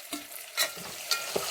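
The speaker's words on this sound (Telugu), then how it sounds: "మగ్గినాయి కదండి ఉల్లిపాయ, మగ్గినాక టమాటా వేసుకుందాం." Tomato going into softened onions in a pan for veg pulao, soft stirring scrapes and light sizzle with a few sharper clinks, quiet and close.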